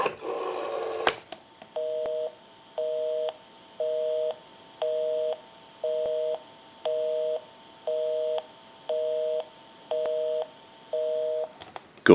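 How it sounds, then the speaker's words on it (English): Northern Electric 302 rotary desk telephone, freshly repaired, gives a brief burst of dial tone and then a steady busy signal of about ten evenly spaced tone pulses, clear and close with no talk over it. "We'll call my number and it'll be busy."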